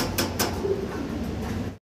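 Lahori fancy pigeons, a black pair, make soft low cooing with a couple of sharp wing or cage clicks early on, fairly close in a loft and fading out at the end.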